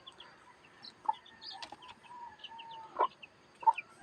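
A hen clucks softly at a feeding spot while her nine chicks peep in thin, high chirps, with a few louder clucks standing out near the end.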